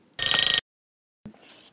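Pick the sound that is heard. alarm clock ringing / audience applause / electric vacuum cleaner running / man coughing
alarm clock ringing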